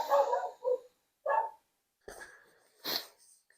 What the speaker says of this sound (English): stupid dog, need to put him in a Stephen King book